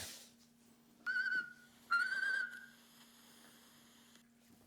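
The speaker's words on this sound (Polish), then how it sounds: "teraz trzeba im podobno gwizdać" Two short human whistles calling geese and turkeys, the second longer and slightly rising, sounding fairly close against a quiet background with a steady low hum.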